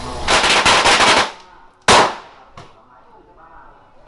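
Firecrackers go off close by in a dense, loud crackling burst for over a second. A single sharp bang follows, then a fainter pop, then quieter rustling.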